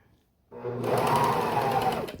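A sewing machine starts up and runs steadily at close range, stitching a stretched neckband onto a small doll sweater with a quarter-inch seam allowance, with a fast, even mechanical whir.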